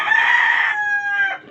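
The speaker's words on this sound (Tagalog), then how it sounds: "Ayan, nakikita mo, may manok din ako" A rooster crows once nearby, a loud, drawn-out call lasting just over a second.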